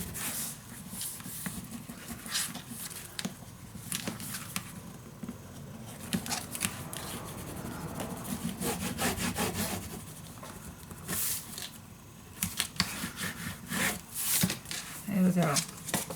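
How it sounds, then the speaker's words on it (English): Paper is burnished down onto a mini album page, making soft repeated rubbing and scraping strokes close by, with light tapping and handling noises and a voice talking over parts of it. "Let's burnish it down."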